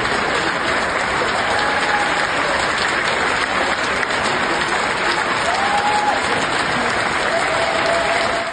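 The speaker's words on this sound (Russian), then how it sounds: "Зал Карнеги-Холл, Нью-Йорк, аплодирует российской пианистке Осетинской и скрипачу Венгерову." A Carnegie Hall audience in New York applauds a Russian pianist and violinist: dense, sustained clapping from a large crowd fills the space evenly from start to finish, like a steady wash.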